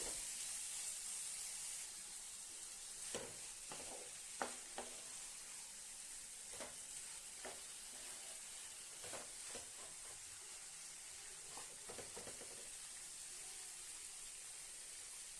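Ridge gourd gravy sautés in a pan with a continuous quiet sizzle and hiss, punctuated by occasional soft clicks and scrapes of a stirring spoon, close and steady with no talking.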